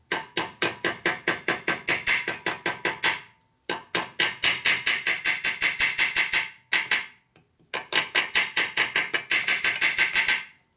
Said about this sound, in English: Go until it's flush with the hammer.